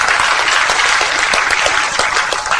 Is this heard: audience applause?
yes